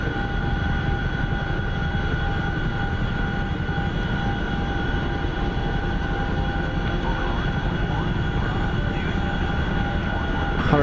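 Helicopter in flight in a video game, a constant, dense engine and rotor roar with steady tonal whine, heard close and loud throughout with no voices.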